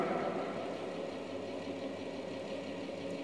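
Small engine driving a universal governor apparatus as its speed is raised, a steady mid-low mechanical hum with faint vibration, fairly quiet and even throughout, no speech.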